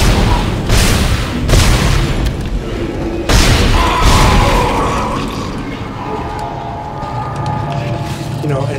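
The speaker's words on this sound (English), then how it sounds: "You can just play the whole game with a plasma cutter." Plasma cutter firing in the video game Dead Space, heavy booming shots in quick bursts with echoing impacts, then a quieter rumbling stretch of game ambience.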